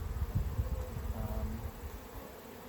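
A low, steady buzz of many honeybees during a hive inspection hums close by, fluttering in soft pulses with a faint background hiss.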